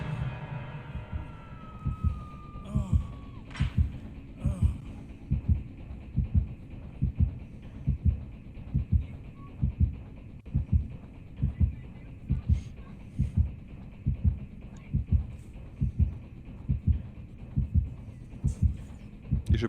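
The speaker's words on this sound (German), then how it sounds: "Das Herzklopfen ist einfach so laut" In the Dead by Daylight horror game, a loud, deep heartbeat thuds in a steady, even rhythm through the whole stretch, with scattered faint game noises and occasional voices over it.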